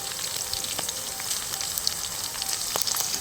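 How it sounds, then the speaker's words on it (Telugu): Green chillies and onions fry in plenty of hot oil for an eggplant tempering, giving a steady, close sizzle with faint crackles throughout and no voices. "పచ్చిమిర్చిని వేయించుకున్నాక ఉల్లిపాయలను వేసుకుని వేయించుకోవాలి."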